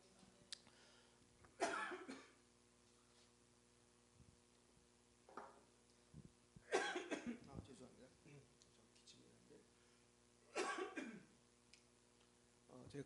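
A man coughs in a quiet church hall during a Korean healing service, three dry, sharp coughing bursts spaced several seconds apart, with fainter throat sounds in between.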